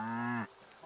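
Cows in the farming game Staxel give a single loud, drawn-out moo, close and clear, that cuts off abruptly after about half a second, leaving faint game ambience.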